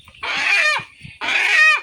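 Two loud, strained squawks come from a chicken just caught, each about half a second long and close to the listener, with a brief pause and faint handling noise between them.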